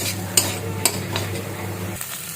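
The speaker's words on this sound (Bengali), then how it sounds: "এখন এটাকে আমি একটু সময় ভেজে নেব সবগুলো মিশ্রণ একসঙ্গে দিয়ে" Potato filling mixture seasoned with turmeric and salt being stirred in a pan, with a steady close sizzle of frying, scraping spoon strokes and a few sharp clinks of utensil against the pan.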